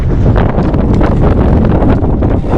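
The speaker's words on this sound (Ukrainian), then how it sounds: "Вітер якийсь просто неймовірний." Strong wind roars and buffets the microphone without letup, a loud, rough rushing that fills the whole stretch.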